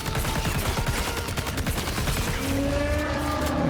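Rapid bursts of gunfire in the video game Death Stranding 2, a loud close fusillade of repeated shots in the first half, then easing into lower rumbling tones.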